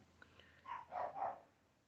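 Pet dogs bark indoors, three quick muffled barks in a row, faint and somewhat distant against a low background hum.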